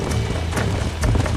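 Horse hooves from the video game Red Dead Redemption pound in quick, uneven galloping beats, loud and close over a rumbling, busy background.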